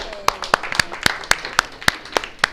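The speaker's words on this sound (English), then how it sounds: "give her a big hand" An audience gives a lecture volunteer a round of applause during a chronic pain talk in Los Angeles, with sharp, evenly spaced claps standing out clearly over a lighter spread of hand clapping.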